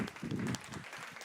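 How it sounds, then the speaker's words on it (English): Applause for a speaker introduced as a University of Geneva professor at a planet health innovation event in Rome, a brief burst of clapping that swells then fades within about a second. "Applause for him."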